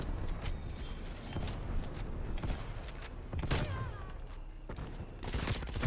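Video game gunfire in a prop hunt match: a few scattered bursts of shots of varied loudness over a busy, continuous game soundscape.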